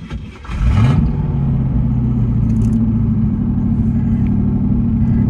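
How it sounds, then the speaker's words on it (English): A 1985 Camaro Z28 V8, abandoned for 13 years and running without front brakes, cranks and fires up after about a second, then settles into a loud, steady, rumbling idle with a slight throttle blip, close and alone. "since we ain't got front brakes, we got the rears, and if you hold that pedal to the floor, the rears work just fine"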